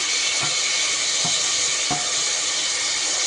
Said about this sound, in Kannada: ಈ ಈರುಳ್ಳಿಯನ್ನು ಸ್ವಲ್ಪ ಫ್ರೈ ಮಾಡ್ಕೊಳ್ಳೋದು ಸ್ವಲ್ಪ ಬೆಂದಾದ ನಂತರ ಇದಕ್ಕೆ ಟೊಮೆಟೊ ಹಾಕ್ಕೊಳ್ತಾ ಇದ್ದೇನೆ